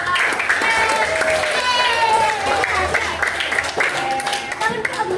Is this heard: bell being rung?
no